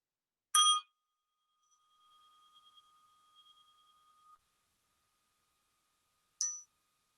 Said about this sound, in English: I'm just going to ring this little Tibetan bell, and I want you all just to place your attention on the bell.